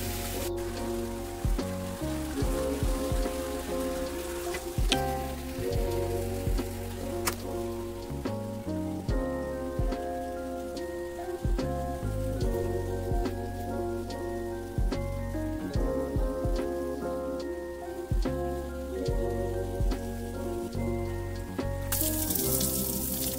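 Water pours steadily out of a home water filter during backwash, a continuous splashing patter like heavy rain on a surface, close and fairly faint, with no talk.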